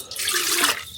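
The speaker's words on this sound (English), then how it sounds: "Throw some water in there." Water gushes steadily into a billy for camp coffee, a close splashing pour lasting under a second before cutting off.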